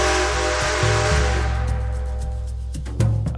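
In Red Dead Redemption 2, a steam train's whistle blasts loud and hissing at the start, then fades into a softer steam hiss over the chugging rumble of the locomotive.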